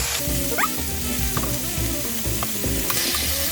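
Banana blossom cooks over medium-low heat in a Saladmaster 4.5 braiser pan, with a steady close sizzle, soft stirring scrapes and occasional light clinks of a utensil.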